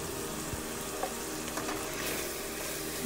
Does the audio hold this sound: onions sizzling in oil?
yes